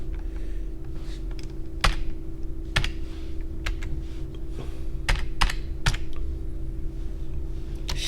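Computer keyboard keys tapped while typing the CP copy shortcut and Enter in drafting software, a few distinct clicks spread over several seconds against a steady background hum, no voices.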